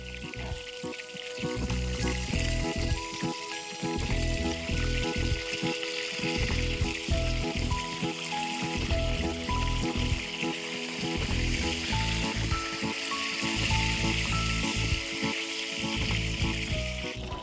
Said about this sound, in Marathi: ते होत असताना आपण आपल्या कारल्यांनाही परतून घेत जाऊ.